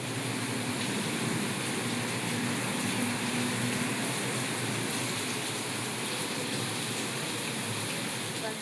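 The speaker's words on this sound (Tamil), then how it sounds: "ஸோ வெளியில் செம மழை." Heavy rain pouring outside on a rainy day, a loud, dense and steady roar of falling water with no breaks throughout.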